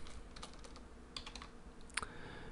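Keys clatter on a computer keyboard as a command is typed, a faint, quick run of clicks in short bursts against a quiet room hiss.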